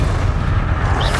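The Bombarda spell from Hogwarts Legacy goes off as a short, dense, low boom that rumbles heavily for about a second.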